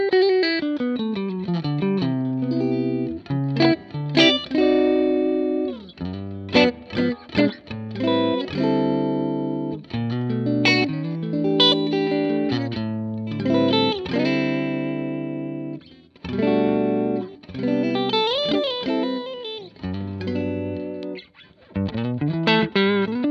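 Recorded electric guitar shaped with EQ to cut the mids and a touch of spring reverb, playing a melodic passage of chords and single notes with a slightly distorted tone, clear and unaccompanied.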